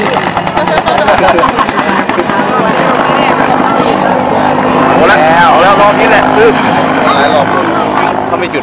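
Gunfire from a military air show demonstration at an air force wing on Children's Day, heard as rapid bursts of shots over a continuous helicopter-like engine roar, with people talking throughout.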